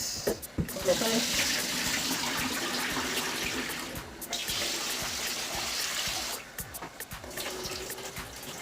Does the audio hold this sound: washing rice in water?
yes